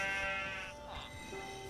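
Sheep bleating in a video game village, a couple of drawn-out, wavering bleats over faint game background sound, close and clear, with no talk.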